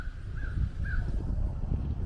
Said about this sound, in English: That bird, I don't even know what kind of bird that is.